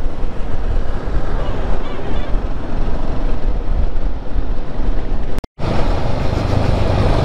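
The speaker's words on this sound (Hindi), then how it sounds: "तीनों हिमालयन 450 एकदम साथ में चल रही है" Royal Enfield Himalayan 450 motorcycles riding together in a group, a loud continuous engine roar mixed with heavy wind rush on the microphone, broken by a brief dropout near the end.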